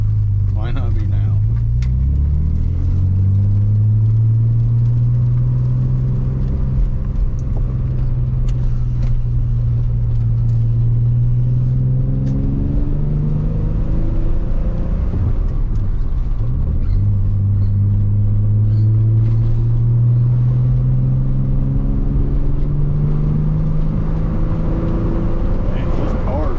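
A turbocharged Nissan 300ZX conversion fitted with a Sebring catback exhaust drives along, its engine droning loud and steady from inside the car, rising and falling through the gears without a break.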